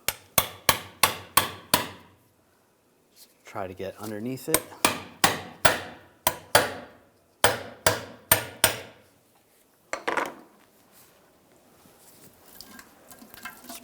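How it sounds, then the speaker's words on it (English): Metal hammer blows striking a pry bar against a Ram 1500 rear backing plate, sharp clanking taps in quick bursts of three to five with short pauses, close and loud, with someone speaking briefly between them. "Then using a pry bar, I'm just going to give it a tap with a hammer."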